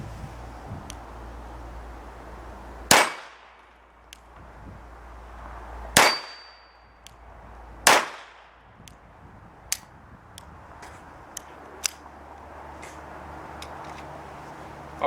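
A Sig Sauer Mosquito .22LR pistol firing Winchester M22 ammo at a range: three loud, sharp cracks spaced a couple of seconds apart, each with a brief ringing decay, followed by fainter scattered clicks and distant pops.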